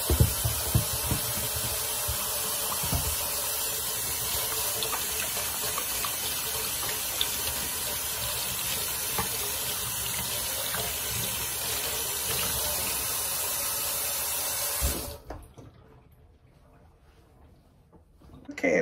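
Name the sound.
washing hands under running tap water at sink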